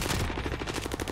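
Gunfire in an online shooter video game, sounding as a rapid, loud burst of repeated cracks packed tightly together with no talking.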